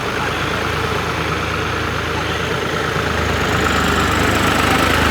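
A John Deere tractor and a New Holland 3630 tractor idle together at 1000 RPM in a steady, loud, low rumble that holds constant throughout, with no voices.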